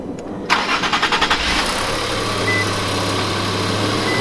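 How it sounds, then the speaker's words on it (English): An Infiniti Q50/Q60 Red Sport with a replaced water pump cranks briefly and fires up, then settles into a steady close idle with no talking. "let's start the car"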